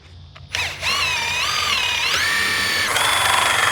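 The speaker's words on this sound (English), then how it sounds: "I'm just gonna drill in around about 15 mil from the edge" Power drill boring into timber decking about 15 mm from the edge, a close, steady motor whine that rises and shifts pitch as the bit bites, running continuously for several seconds after a brief start.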